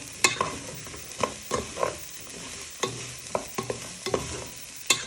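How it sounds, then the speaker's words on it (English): Peppers frying in a hot pan for beef in black bean sauce are stirred with repeated sharp scraping strokes about once a second over a steady low sizzle, close up and with no talking. "Now you add in your peppers. You want to give this a good stir"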